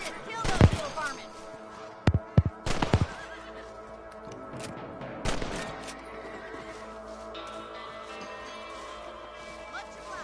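Horses in Red Dead Redemption whinny and snort loudly in a few sharp bursts, with hooves clopping and a faint background of game ambience.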